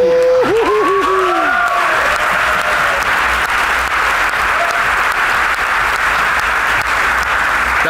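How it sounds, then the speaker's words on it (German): Audience applause at a bodybuilding competition, loud and sustained for the whole stretch, with a few whoops and cheers near the start and crowd noise spread across the hall. "Vielen Dank, Applaus für dich."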